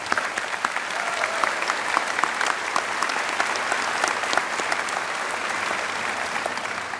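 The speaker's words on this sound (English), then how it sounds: "Let's give them another round of applause." A high school commencement audience claps steadily for a student performance: a dense, even wash of many hands that stays loud and unbroken for the whole stretch.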